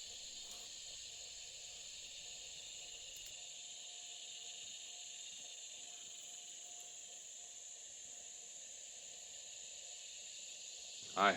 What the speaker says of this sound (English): You can still hear the cicadas rising and falling in volume.